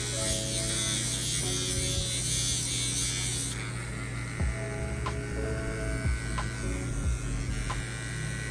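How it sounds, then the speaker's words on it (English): A recharged dog nail grinder runs with a steady high electric whine and buzz, loud and close, shifting pitch slightly partway through as it touches nails, with faint small knocks later. "even though this nail grinder has been recharged, and it sounds like it's going a little bit faster"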